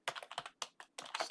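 Computer keyboard typing at close range, a quick burst of about eight crisp key clicks in an uneven rhythm, alone and faint.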